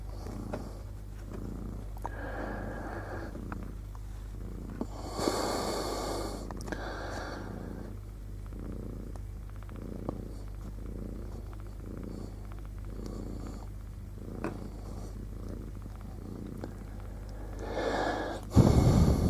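A kitten purrs close up in a low, steady rumbling drone, broken by soft breathy snorts and sniffs and a sharper burst near the end.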